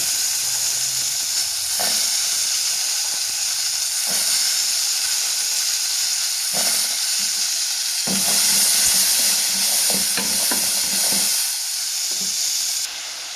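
Chickpeas sautéed in a pan for masala sundal, a loud continuous sizzle and hiss with intermittent stirring scrapes and clatters.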